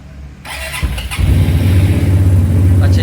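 A 400cc heavyweight motorcycle engine self-starting: a short electric starter whir, then the engine catches and settles into a loud, steady low idle rumble close by.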